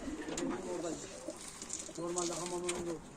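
Pigeons bred as Turkish tumbler play birds cooing softly in a loft during a live auction, a low throaty rolling coo repeated twice at moderate distance, with faint background noise.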